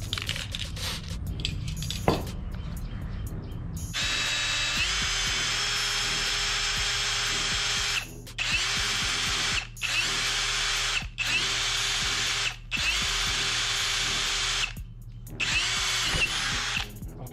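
A PUMA PM-280BL cordless brushless drill bores through 5 mm steel, its steady high whine running loud and close in several long bursts separated by brief pauses, with a rattle at the start as the bit engages.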